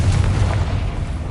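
A Confringo spell explosion in Hogwarts Legacy, a deep booming blast with heavy low rumble that fills the short moment, heard alone without talking.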